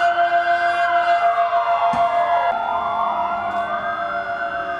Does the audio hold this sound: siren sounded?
yes